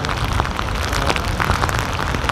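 Heavy storm rain pours steadily outside a window in Saigon during a typhoon, a dense continuous hiss of drops striking surfaces with no voices.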